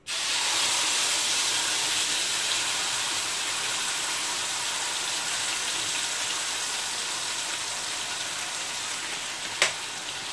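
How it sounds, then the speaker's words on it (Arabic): Sauce hitting hot oil in a pan for chicken masala, a loud, steady broadband sizzle that carries on unbroken and fades only slightly, with one brief sharp click near the end and no voices. "فوالا ها الزيت سخنات دابا. غادي نحط فيها غادي ندير فيها هاد لاصوص"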